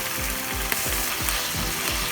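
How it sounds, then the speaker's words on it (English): Chicken and vegetables for chilli chicken fry in a hot pan under a constant sizzle, with a rhythmic scraping pulse from steady stirring repeating several times. "Keep stirring for few minutes,"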